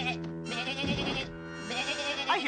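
Cartoon sheep in a Scooby-Doo episode give a few drawn-out, wavering bleats that follow one another closely, loud and near.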